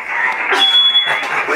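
A loud, continuous alarm buzzing with a thin steady high tone in it during a field day event, heard close alongside overlapping voices.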